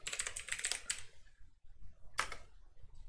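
Rapid keystrokes clatter on a computer keyboard as a short Linux command is entered, a quick burst of close taps, a pause, then a final firm keypress.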